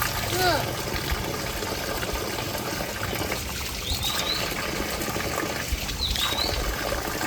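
Water trickling and splashing steadily from a mountain stream while someone washes their face outdoors, with faint birdsong above the continuous flow, nearby and moderately loud.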